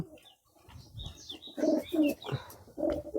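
Pigeons coo repeatedly nearby in soft, throaty phrases, with faint chirps and rustling in the background.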